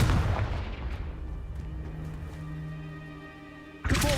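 The Confringo fire spell in Hogwarts Legacy lands as a loud boom, fades into a low rumble and ringing, then a second sharp blast hits at the end.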